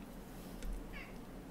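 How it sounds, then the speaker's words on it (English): A cat gives one short, quiet meow against a low steady background hum, faint and brief, with no talking. "that was a little meow"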